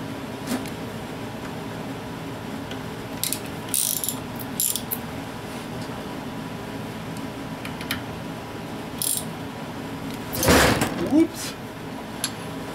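Ratcheting wrench snugging bolts at a diesel fueling station, with bursts of metallic clicks and clanks amid a low background hum, one louder rattling clatter near the end, moderately close.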